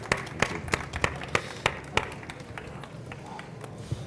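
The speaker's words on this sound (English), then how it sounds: "I'd like to ask for a round of applause for our presenters" Sparse applause from a conference audience at an annual event in Amsterdam, honouring presenters and panelists: a handful of separate claps ring out over a low murmur, thinning toward the end.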